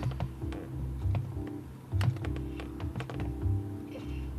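Mouse clicks on a computer while editing a quiz in a web app, a series of short, sharp taps spread irregularly across a few seconds over a low steady room hum.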